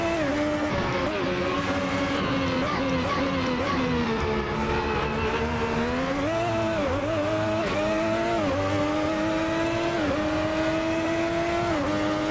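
A race car's V12 engine in the Assetto Corsa driving game, a loud continuous engine tone whose pitch rises and falls as the revs change, close up with no talk over it.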